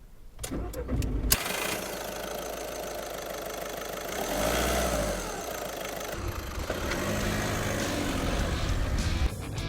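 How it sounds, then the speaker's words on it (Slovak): A Škoda Fabia Combi II 1.6 TDI diesel, 77 kW, heard from inside the cabin while driving: a steady, gritty engine drone that swells as it accelerates around the middle of the clip, with no talking. "Je to diesel. Počujete ho aj do interiéru, ale zase na druhú stranu príjemne zrýchluje."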